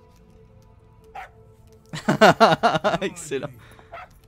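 A puppy in Metal Gear Solid V: The Phantom Pain gives a quick cluster of yips and whimpers after a faint early chirp, close and fairly loud, with someone speaking over it.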